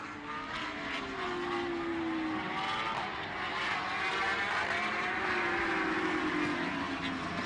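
Super Stock 1000 racing motorcycles scream around the Pannonia Ring circuit in Hungary, a continuous high-revving engine roar with rising and falling pitch as bikes pass, steady and moderately distant throughout.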